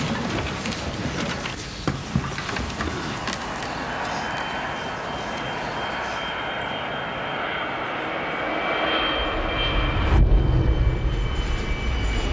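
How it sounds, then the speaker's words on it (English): A steady, loud roar of an airplane taking off in a film scene, its engine noise swelling toward the end with a deep low rumble. "we hear the sound of the airplane taking off"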